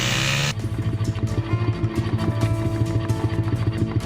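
Motorcycle engines rev and strain through a muddy road, a dense, continuous engine drone with rising and falling throttle, close and loud throughout.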